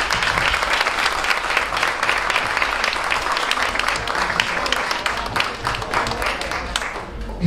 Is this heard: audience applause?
yes